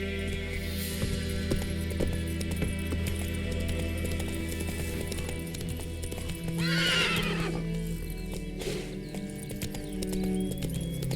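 Roach, Geralt's horse in The Witcher 3, gallops with rapid clip-clop hoofbeats and lets out a loud, shrill neigh midway, all set against a constant bed of game ambience and music.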